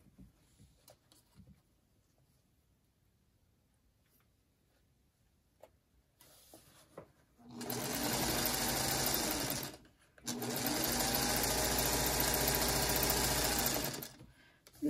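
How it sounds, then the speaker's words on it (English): A sewing machine stitching quilt block pieces runs in two loud, steady bursts with a short pause between them, after a quiet stretch of faint handling noises. "and I'm going to sew this to this."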